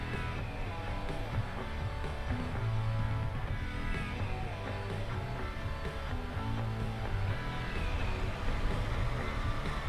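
Steady low motor hum with a constant tonal drone, continuous and fairly loud throughout, no voices.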